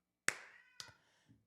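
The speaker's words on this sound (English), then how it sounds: "I have cats who like to cry and talk." Two short, sharp cat meows sound close together, followed by a faint third sound in a quiet room.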